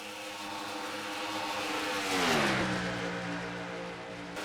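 A stock car engine from a racing video game drones loud and close in the NOS Energy Cup race at Maple Leaf 500, its pitch sliding lower as the car slows toward pit road.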